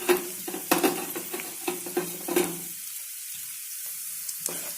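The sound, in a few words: stirring garlic and ginger frying with onions in a pan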